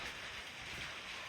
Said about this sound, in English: It's raining harder now. Yeah, you could probably hear the rain out there